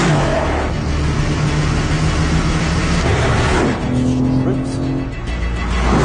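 A Mercedes-AMG GT with a 4-litre twin-turbo engine roars loudly and up close, holding a steady, throaty drone, then shifting pitch as it revs up again toward the end.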